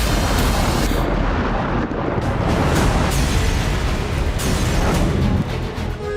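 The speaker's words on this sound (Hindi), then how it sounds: "हमास के ठिकानों पर ताबड़तोड़ बमबारी हो रही है।" Heavy bombing in a residential area of Gaza, a loud, dense roar of explosions and rumbling blasts that fills the whole stretch without pause, with sharper bursts rising out of the continuous booming.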